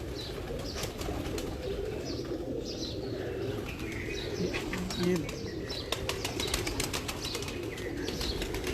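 Pigeons in a loft coo softly while wings flap in short bursts, with someone speaking intermittently over the flock.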